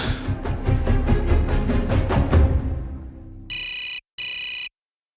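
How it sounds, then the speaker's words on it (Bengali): A telephone rings in two sharp electronic bursts near the end, loud and close, after a dense stretch of rhythmic film score that fades out. "ফোন বাজছে, তুলছে না কেন?"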